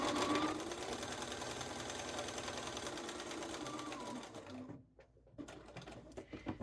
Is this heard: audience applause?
no